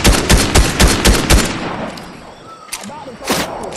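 Rapid bursts of gunfire from a Fortnite match, several close, loud shots in quick succession followed by quieter scattered shots and ambient game noise.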